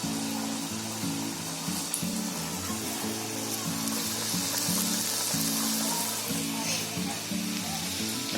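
Puri dough frying in hot oil, a steady close sizzle and bubbling running throughout, with a faint rhythmic hum underneath.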